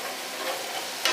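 Tomato roast sizzling in a pan as it is stirred over a medium flame, a continuous close frying hiss with a brief scrape near the end and no speech.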